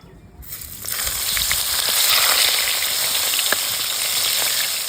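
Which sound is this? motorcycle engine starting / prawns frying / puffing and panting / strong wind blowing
prawns frying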